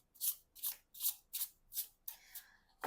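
Rapid overhand shuffling bursts of cards, about six quick swishes in a steady rhythm, close and fairly quiet, with no talking.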